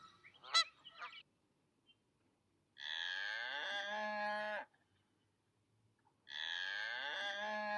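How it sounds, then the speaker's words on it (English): A cow moos twice, long and fairly loud, with a quiet gap between the calls, after a few brief honking sounds at the start. "Cow."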